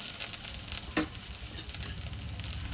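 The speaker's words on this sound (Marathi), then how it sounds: "कोथिंबीर छान परतून झाली आहे. यावर आपण कोबी घालूया, कांदा घालूया" Chopped cabbage and onion go into a hot pan over sautéed coriander, producing a loud, close sizzle with stirring scrapes and a sharp burst near the start as the vegetables hit the oil.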